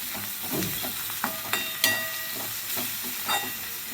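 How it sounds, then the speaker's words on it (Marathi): A spoon stirs a teaspoon of turmeric powder into fried onion and tomato in a pan for an egg dish, giving soft scraping and a low sizzle with a few sharp clinks of metal against the pan. "1 चमचा हळदपूड घातले बघा. मिक्स करून घ्यायची हळदपूड."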